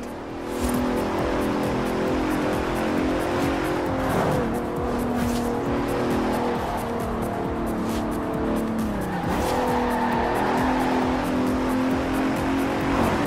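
A Bentley Continental racing car driven in Forza Horizon 4 gives a loud, steady engine drone with a shifting pitch, accompanied by tire noise and brief squeals throughout.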